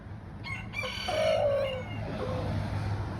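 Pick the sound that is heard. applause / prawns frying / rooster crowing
rooster crowing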